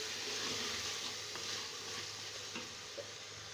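Spoon stirring ground biryani masala through mutton frying in a pot, a steady close sizzle with light scraping strokes running throughout.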